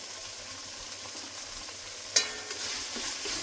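Spice masala with turmeric and Kashmiri chilli powder frying in a pan for a Bengali doi potol curry, a steady broadband sizzle with a sharp utensil scrape near the middle and a few soft stirring knocks.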